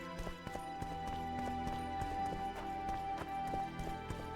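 Geralt's horse Roach in The Witcher 2, with a quick, even run of hoofbeats over layered game music and ambience.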